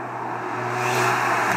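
A Stage 3 tuned Audi S1 with a manual gearbox pulls hard, its engine note rising steadily and loud from the cabin with no talk over it.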